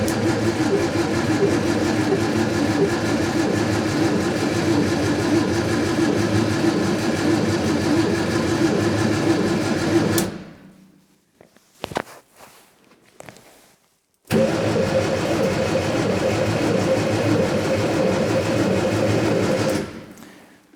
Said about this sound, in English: So we've got ignition on, and let's energise our starter motor.